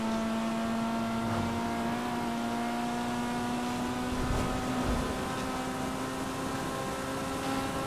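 Toyota car engine in GTA 5 Online with its engine fully exposed, a steady droning hum holding one pitch for several seconds, moderately loud and alone without speech.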